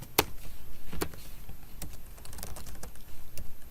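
Code being typed on a computer keyboard, with rapid close clicking keystrokes in uneven bursts and a few louder sharp key strikes scattered through.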